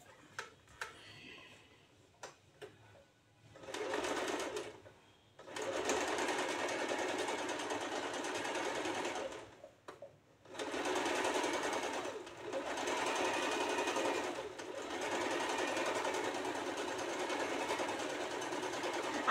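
A sewing machine stitches a kaftan kurti in several long bursts of steady mechanical whirring, broken by pauses with light clicks and fabric handling.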